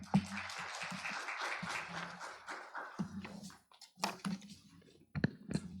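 A seminar audience at a fair trade research presentation gives faint, scattered clapping that fades out after about three seconds, followed by a few isolated claps and small knocks in a quiet hall.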